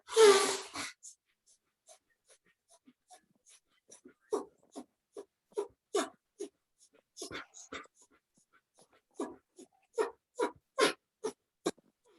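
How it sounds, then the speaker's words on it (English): Bhastrika breathing, in and out through the nostrils during a yoga pranayam session, comes as a series of quick, sniffing breaths at a steady rhythm and quite close, after a louder exhale at the start. "So now do first one is called bhastika. So breathe in through your nostrils, breathe out through your nostrils."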